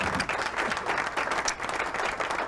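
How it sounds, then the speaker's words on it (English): Steady applause from a studio or podcast audience, dense and continuous clapping at moderate loudness filling the short stretch with no talk. "One applause for alcohol."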